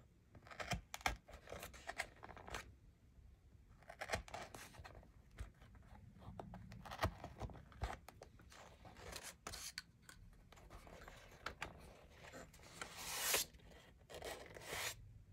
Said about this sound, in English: I'm using this awl to punch holes